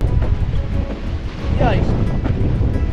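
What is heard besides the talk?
ocean waves crashing against cliffs, wind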